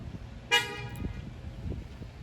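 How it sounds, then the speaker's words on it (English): A neighbour's car horn gives one short honk at a distance over low background rumble, with no voices. "That's one of my neighbors honking at me."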